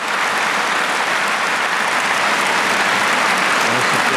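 Sustained, dense applause from a large audience at the Nobel Peace Prize ceremony in Oslo, loud and steady throughout with no pauses.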